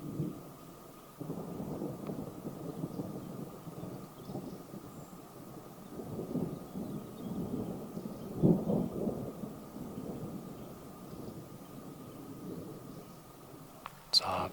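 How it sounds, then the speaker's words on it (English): Low rolling thunder from an approaching storm, deep rumbles swelling and fading repeatedly over a quiet outdoor background, moderately distant. "I do like a change in the weather, especially when there's a good storm."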